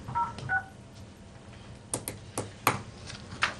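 Telephone keypad tones dialing into a conference call during a board session, a few short beeps early on, then a pause and several more clicks and tones spaced unevenly, moderately quiet in a room.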